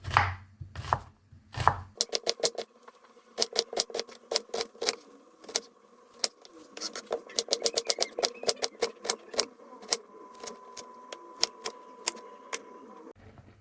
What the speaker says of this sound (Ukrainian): Цибулю нарізаємо півкільцями.